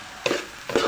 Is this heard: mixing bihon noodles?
yes